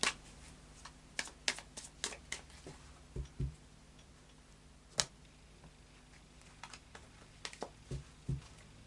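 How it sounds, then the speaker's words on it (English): A Tarot of Dreams card deck being shuffled by hand in a quiet room, with soft scattered riffles and sharp card snaps coming in irregular bursts, close and fairly faint. "So we'll do a final shuffle of the Tarot of Dreams."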